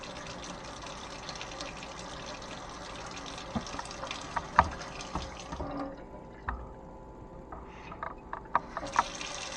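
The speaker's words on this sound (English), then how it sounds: "It's leaking out of here, out of the nut, faucet nut." Water runs and drips from the leaking nut of a corroded MOEN faucet at a sink, a steady close trickle broken by occasional splashes and drips.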